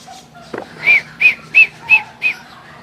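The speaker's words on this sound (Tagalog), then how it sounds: "Tuwing pipito tayo," Someone blows a whistle to call carabaos, giving five short, evenly spaced shrill blasts close to the microphone after a brief knock.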